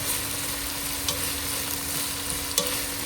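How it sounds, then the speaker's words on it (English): Chopped onions fry in a pot with a steady close sizzle and a few clinks of stirring, under a constant low hum from a kitchen appliance. "So now we're going to cook the onions first."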